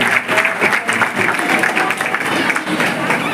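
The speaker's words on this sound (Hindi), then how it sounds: "उर्षिता के लिए जोरदार तालियां बजाएं।" At an awards ceremony, an audience gives loud, sustained applause as a girl accepts her prize, a thick, close burst of clapping from many hands with no voices over it.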